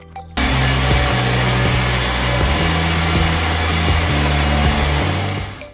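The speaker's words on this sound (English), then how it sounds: "The WB2000 can be used as a standalone sawmill to fully process logs" A WB2000 sawmill saws through logs with a loud, continuous, close mechanical whine and buzzing roar that starts abruptly, holds steady with slight pitch shifts, and runs alone without voices.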